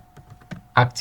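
Several soft keystrokes on a computer keyboard while a command is typed, followed by a louder cluster of clicks near the end, with a faint steady hum underneath.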